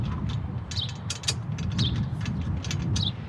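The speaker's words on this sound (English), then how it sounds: "Now I can go ahead and snug down the nuts" Nuts being snugged down on a Rhino-Rack Vortex roof rack bar, a short burst of close ratcheting clicks and metallic scraping against a steady outdoor background hum.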